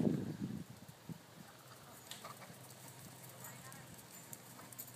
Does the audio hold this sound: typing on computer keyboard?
no